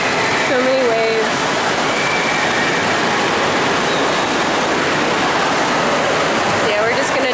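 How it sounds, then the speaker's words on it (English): Waves wash in a continuous, loud, broad rushing wash that fills the whole stretch, with a couple of brief voices and faint squeaks over it near the start and end. "So many waves."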